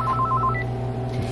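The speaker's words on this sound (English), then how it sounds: "I hear the phone" Telephone at a bakery counter giving a short series of rapid electronic beeps in quick succession, close and fairly loud, over a steady low hum of background noise.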